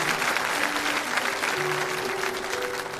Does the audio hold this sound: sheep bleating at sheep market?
no